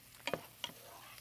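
Red pepper is stirred in a frying pan. A few quiet, short scraping clicks come in quick pairs over a faint background.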